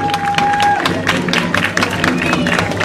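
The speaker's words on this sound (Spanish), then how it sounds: "¡Fuerte el aplauso a la batucada!" Crowd applause and cheering for a batucada drum group at an outdoor Three Kings letter-giving event in Puntallana, loud and continuous with mixed crowd voices and a brief tone early on.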